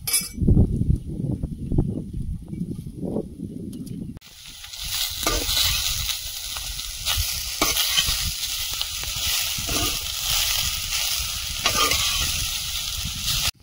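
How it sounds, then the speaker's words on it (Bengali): Greens tossed into a pan with potato and eggplant, first a few stirring scrapes and clinks, then a loud, steady sizzle of frying with repeated stirring strokes close by. "শাক দিয়ে আর একটু নেড়ে চেড়ে ভেজে নিয়েছি"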